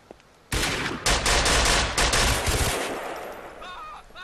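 Rapid automatic gunfire from a police SWAT shootout in the GTA mod LCPDFR, loud sustained bursts of shots with short gaps, tapering off near the end.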